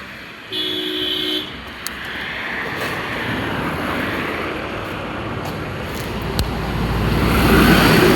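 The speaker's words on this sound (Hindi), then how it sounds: "गाड़ी बहुत निकल रही।" Steady traffic noise from many vehicles passing on a road on the return trip from Manali, with a brief horn toot near the start and the roar swelling louder toward the end.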